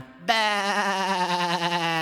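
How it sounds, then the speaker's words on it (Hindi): A sheep in an animated children's farm animal nursery song gives one loud, sustained, wavering bleat that starts abruptly and carries on without any talking over it. "वो एक भेड़ है।"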